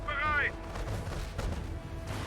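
Brief bursts of gunfire crack during a Company of Heroes battle, quiet and partly mixed with game voice chatter and background battle noise.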